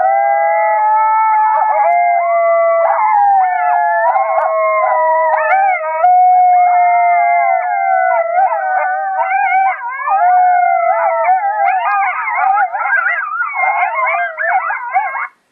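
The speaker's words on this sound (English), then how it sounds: "the next one is the coyote serenade" Coyote serenade played through a Primos Dogg Catcher electronic predator call: a loud, continuous chorus of overlapping coyote howls and yips, wavering and rising together without pause.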